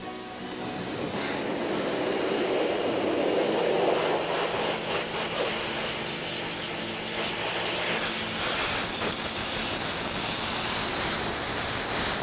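Pressure washer blasting a whitetail deer skull braced against a hard surface, a loud continuous hissing spray up close that shifts in tone as the jet moves over the bone, with no talking.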